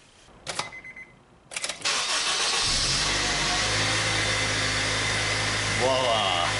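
A car engine cranks and starts after a new battery is fitted: a couple of clicks and short bursts of cranking, then the engine catches and settles into a loud, steady idle with a slight rev near the end.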